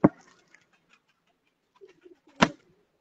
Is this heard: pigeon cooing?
yes